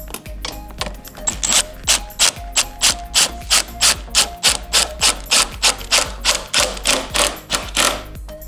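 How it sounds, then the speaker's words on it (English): A 10mm bolt tightened on a new MBRP exhaust for a Ski-Doo REV Gen 4 snowmobile: a close, rapid, even series of ratchet-wrench clicks, about twenty strokes in a steady rhythm, with no talking. "Then we can tighten our 10mm bolt on the back there."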